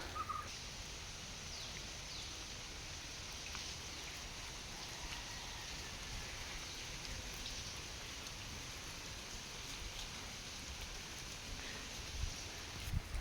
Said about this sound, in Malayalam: നല്ല വീടിൻ്റെ സൈഡിലൊക്കെ നല്ല മഴ കേട്ടോ